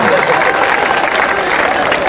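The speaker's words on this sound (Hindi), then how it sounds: "एक बार जोरदार तालियां बजाए साहब मिलके" Dense, steady applause from a large audience at a live Hindi comic poetry (hasya kavi) recital, continuous clapping throughout with a faint murmur of crowd noise.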